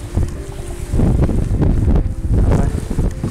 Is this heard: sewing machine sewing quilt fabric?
no